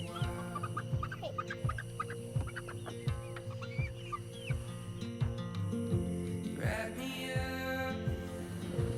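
Chicks cluck and peep in short, scattered calls, close by, while a regular knocking beat runs steadily underneath.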